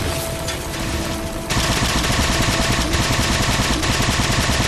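Turret gunfire in Halo 4, a loud sustained burst of rapid automatic shots that gets heavier after a brief lead-in, with a dense unbroken rattle to the end.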